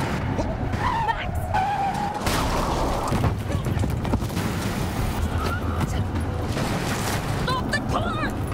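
Car skidding to a stop in the video game The Quarry, a loud broadband scrape of tires sliding over a steady engine roar, with a voice calling out over the rush and game music or effects around it.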